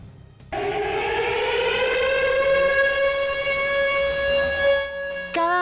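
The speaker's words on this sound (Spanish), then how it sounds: "suenan las sirenas a las 9:53 en punto, en memoria de las 85 personas muertas" A civil defense siren in Argentina sounds in memorial, starting abruptly and holding a loud, steady wail for about five seconds before cutting off.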